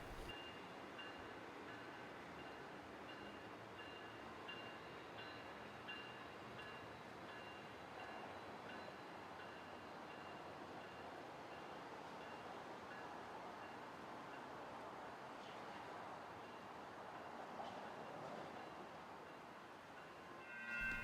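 A San Diego-bound Pacific Surfliner passenger train pulls out of the Santa Ana Regional Transportation Center, heard as a steady, fairly quiet rumble of rail noise that holds even throughout, with no voices.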